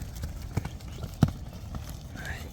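A large mare's hooves clip-clop a few times at a horse sale near Bishkek, irregular knocks under low background noise and faint voices.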